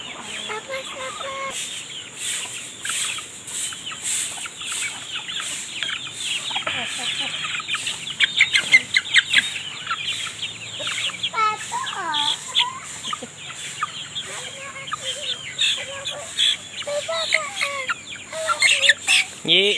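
Free-range native chickens cluck and chatter continuously at close range in a rural yard, with sharper clucks bunching together midway and a few voices speaking faintly underneath.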